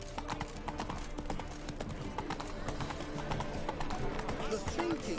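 Roach, Geralt's horse in the video game The Witcher 3, clip-clops steadily with hooves close by, a continuous rhythmic trot under game ambience and a brief whinny-like sound near the end.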